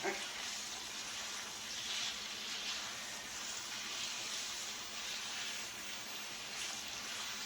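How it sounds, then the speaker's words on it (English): Steady, dense crackling sizzle of hot grease frying potatoes, constant and even throughout at a moderate level. "We want to hear the sizzle."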